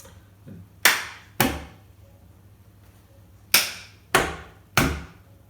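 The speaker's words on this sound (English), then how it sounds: "So the first thing is quite simple, just clap." Five sharp hand claps in a simple uneven rhythm, two close together, a pause, then three evenly spaced, loud and near in a quiet room with faint low hum.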